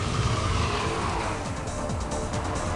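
A front-wheel-drive car pushed too fast around a greasy roundabout, understeering and washing out: steady loud road and tyre roar with a hissing scrub of sliding front tyres, no voices.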